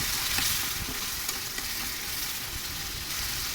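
Poha fish and potatoes cook together in a pan for a home lunch, giving a loud, continuous, close-up sizzle with faint stirring scrapes throughout and no talking.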